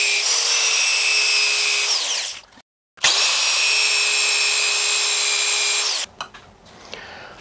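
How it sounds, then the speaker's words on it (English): A power sander works a walnut bowl to remove a small leftover nub, whining loudly and steadily in two close bursts split by a brief silence, then spinning down into faint handling noises. "That'll work to sand off the little nub that still remains."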